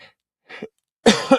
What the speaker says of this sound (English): It is cold in here, and it's making me cough a little bit.